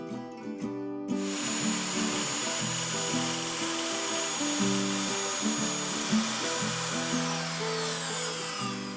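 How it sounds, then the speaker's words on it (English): A powered saw cuts wooden pieces for a pull-out bed frame in a Peugeot Expert camper conversion, giving a loud, continuous motor whine that shifts in pitch as the blade bites into the wood. "I prepared all the pieces for the main bed frame. And having a powered saw for this stage saves a lot of time."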